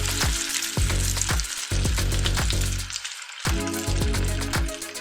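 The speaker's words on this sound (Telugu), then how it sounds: "ఒక గిన్నెలో ఆయిల్ వేసుకొని వేడయ్యాక బజ్జీలాగా వేసుకోవాలి" Bhajji-like batter for motichoor laddu frying in hot oil in a pot, a loud, steady sizzle and crackle with repeated scoops or drops of batter into the oil, with no voices.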